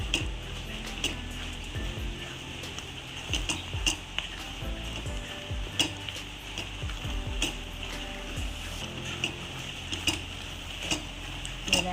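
Tomato pickle sizzling steadily in a pan over medium heat, with frequent scrapes and clinks of a spoon as it is stirred, a continuous crackling bed broken by irregular stirring knocks.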